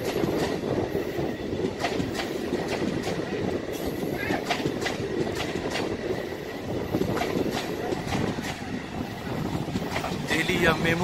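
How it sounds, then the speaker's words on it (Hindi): A MEMU passenger train running from Varanasi towards Barkakana, arriving at Garhwa Road: a steady, continuous rumble of rolling stock with clicking wheels and occasional squeals, heard close and fairly loud throughout. "ये पहली मीडियम ट्रेन है जिसे मेमू में कन्वर्ट कर दिया गया है"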